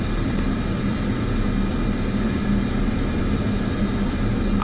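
A Delta airliner at LaGuardia taxis in Microsoft Flight Simulator 2024, its engines making a loud, steady, continuous drone and whine with no speech over it.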